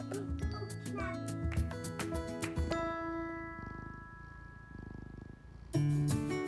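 Cats in a rescue colony meow in a run of close, repeated tonal calls over the first few seconds, then a quieter stretch before another loud meow near the end.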